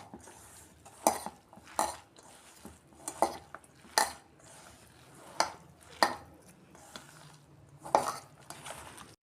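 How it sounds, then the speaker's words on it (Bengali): Cabbage pakora mixture with rice flour and spices is kneaded and squeezed by hand in a bowl, giving soft squelching presses with a sharper clink every second or so, quiet and close. "দিয়ে এটাকে আমি ভালো করে চটকে মেখে নেব।"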